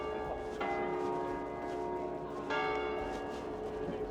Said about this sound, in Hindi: जैसे ही घंटा होता है तो टलियाँ शलियाँ बजनी शुरू हो जाती हैं